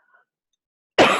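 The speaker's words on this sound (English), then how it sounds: "I'm going to cough and I must apologize." A single loud cough from a lecturer bursts in at the very end after near silence, close and abrupt.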